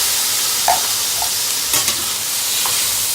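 Onions and mushrooms fry steadily in a pan, giving a loud, continuous hiss with a few faint clinks of a utensil, with no voices.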